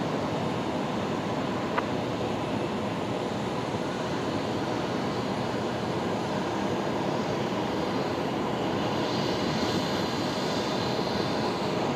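A passenger plane lands at night at Brisbane Airport with its landing gear down, heard as a steady, broad jet roar that holds at an even level for the whole stretch.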